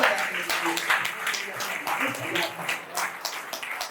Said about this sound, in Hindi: एक बार आप जरा जोरदार तालियां बजाइए।